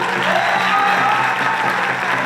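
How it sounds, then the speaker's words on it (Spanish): Festival crowd applauding groups of dancers at a Polynesian dance festival, steady dense clapping throughout with a faint murmur of the audience beneath. "aplausos para cada uno"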